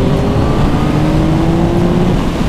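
A 2021 Yamaha MT-09 three-cylinder motorcycle accelerating hard, its engine note rising steadily in a loud, continuous pull with rushing wind noise and no voices.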